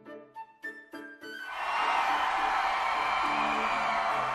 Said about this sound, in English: Well, that crowd was amazing.